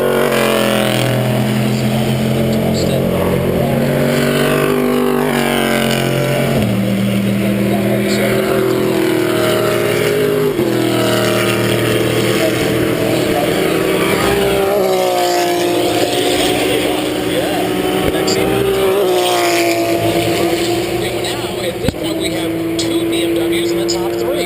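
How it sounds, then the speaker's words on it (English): Onboard the number 3 Corvette race car driven by Jan Magnussen at VIR, the engine roars loud and close, its pitch sweeping up through gears and dropping on downshifts again and again, with commentators talking over it. "Now you ride on board our championship leaders, the number 3 Corvette, driven by Jan Magnussen"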